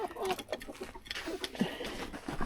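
Ducks and chickens at a farm's morning feeding, busy clucking and scattered quacks with pattering movement, close and lively, with a faint voice mixed in.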